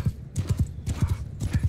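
Horses gallop in Mount & Blade 2: Bannerlord, with rapid, rhythmic hoofbeats pounding close and loud in quick clusters.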